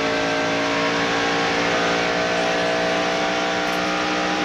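A NASCAR stock car roars steadily at speed along the straightaway of a mile-and-a-half track, Atlanta Motor Speedway, in 1992. A continuous, loud engine drone holds at high revs.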